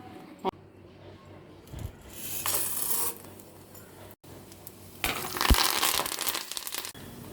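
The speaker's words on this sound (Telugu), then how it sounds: "ఇంకో అర గ్లాస్ నూనె వేడి చేసుకుని పప్పు జీలకర్ర ఆవాలు మెంతులు ఎండుమిర్చి వెల్లుల్లిపాయలు కరివేపాకు ఇవన్నీ వేసి తాలింపు పెట్టేసుకుందాం" Brief bursts of hot-oil sizzling flare up twice, the second longer and louder, between quieter scraping and rustling in a kitchen, as lentils, cumin, mustard seeds, fenugreek, dried red chillies, garlic and curry leaves go into hot oil for tempering.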